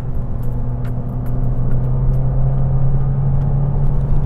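A car with a turbocharged MultiAir engine drives along a road, giving a loud, steady low engine drone and tyre rumble heard from inside, with no voices.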